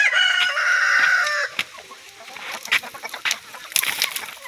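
A rooster crows loudly up close, followed by scattered clucks and short calls from several chickens nearby.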